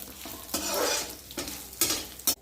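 Cumin seeds and dried red chillies hit hot oil after mustard seeds, a loud close sizzle swelling in bursts with scraping stirring and a metal clink at the end.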